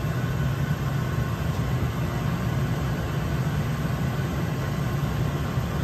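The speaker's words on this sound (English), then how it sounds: "there goes the blower motor" Steady, even hum of a home furnace blower motor running together with the inducer, a constant low drone with no talking over it.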